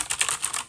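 Short burst of typing on a clicky mechanical keyboard with tactile switches: a handful of bright, snappy keystrokes in quick succession, close and unaccompanied by speech.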